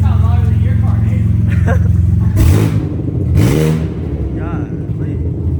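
A turbocharged car fitted with a loud replacement exhaust revs hard up close, its deep rumble broken by two sharp, hissing bursts about a second apart, while people talk over it.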